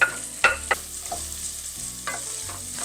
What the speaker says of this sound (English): We're just going to saute our onions.